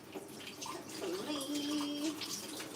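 Cold tap water running steadily while vegetables are rinsed in a kitchen during roast meal prep, a close, continuous splashing flow with a faint voice humming or talking over it.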